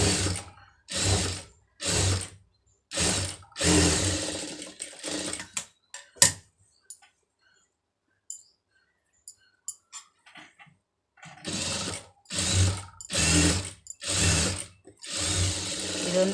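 Sewing machine running in short bursts, stitching a folded quarter-inch fabric edge on a sari border; about six quick whirring runs, then a quiet stretch of small clicks and handling sounds, then another five rapid bursts close by.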